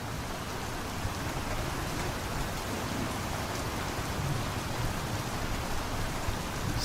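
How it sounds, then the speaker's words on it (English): Dense, steady rain ambience from a game level, a constant close hiss of falling rain with no pauses and no talk. "Let's go to a level where it's not got lots of noisy rain."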